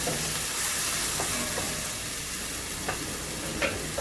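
Onion and garlic frying in a pan over medium heat, a dense steady sizzle close by with a few light stirring taps.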